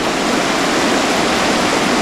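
Fast water pours and rushes on the Zagyva river: a steady, loud, close hiss of flowing current with no breaks and no voices.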